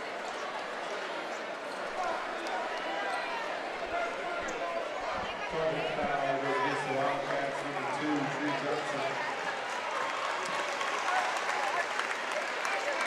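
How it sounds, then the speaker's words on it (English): Crowd at a high school basketball game between Riley Wildcats and Adams Eagles breaks into a sustained round of applause that swells midway and carries on loud, mixed with a commentator talking over it. "He gets a little round of applause there."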